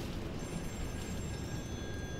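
A telephone rings inside the video game Still Wakes The Deep, a steady electronic ring held over a low droning ambient background, moderately loud and continuous with no talking.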